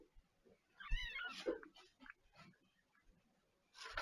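A cat meows in a short sequence of calls within a household that also keeps kittens, with two clear mid-level vocalizations near the start and another at the end, separated by quieter room noise and no speech.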